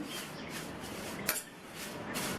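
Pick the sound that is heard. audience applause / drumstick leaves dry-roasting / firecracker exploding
drumstick leaves dry-roasting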